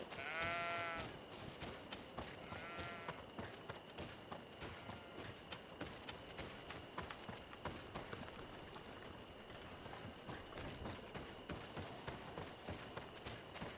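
Sheep bleat in the video game GreedFall, two wavering bleats near the start over a steady bed of rain-like patter and game ambience that carries on throughout.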